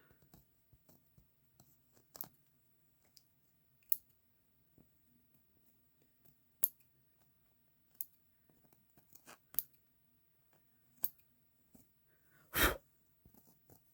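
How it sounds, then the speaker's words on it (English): Scissors trimming embroidery jump stitches on a towel, a series of sharp isolated snips spaced a second or two apart over near silence, close and fairly faint. "I have to trim these jump stitches."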